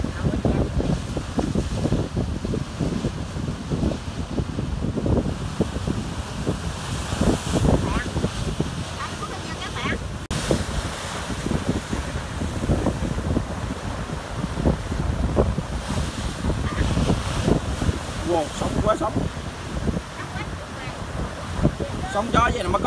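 Wind and sea waves pound a rocky coast near a lighthouse, a steady loud wash of surf with heavy wind buffeting the microphone throughout, and people speaking over it at times.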